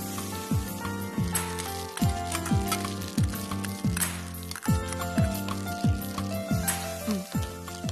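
Onions and green chillies fry in a pan on the stove. A close, crackling sizzle holds steady throughout, with sharp pops and the clatter of a utensil at irregular intervals.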